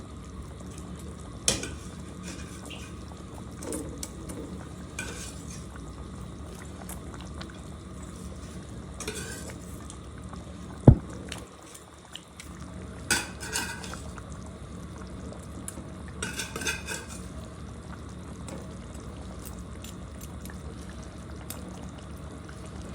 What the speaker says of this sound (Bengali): বলক চলে আসছে মাছটা দিয়ে দিলাম